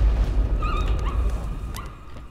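Dog barking inside the horror video game Layers of Fear, a few short sharp barks and yelps over a dense rumbling low drone, moderately loud and close.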